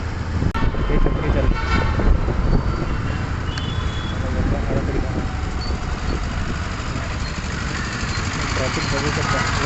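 Dense stop-and-go road traffic on a crowded single-lane road, engines idling and rumbling continuously with a few short car horn toots near the start, while voices talk over the steady roar.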